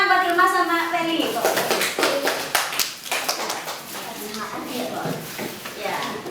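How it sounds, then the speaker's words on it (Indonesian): A classroom of children claps for two students, a burst of many quick overlapping hand claps that starts right after a teacher speaks and carries on for several seconds. "Tepuk tangan buat Hilman sama Ferry."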